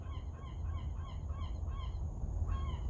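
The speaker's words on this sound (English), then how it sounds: "that bird. I don't know if you can hear it. Seagull." A gull calls repeatedly in a rhythmic series of honking cries, faint and somewhat distant, over a steady background hiss.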